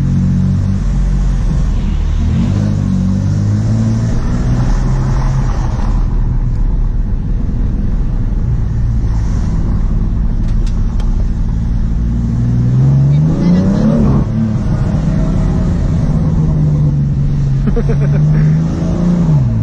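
A BMW M3 F80 Competition engine drones and revs up and down repeatedly, pitch rising and falling, with people talking over the rumble inside the cabin.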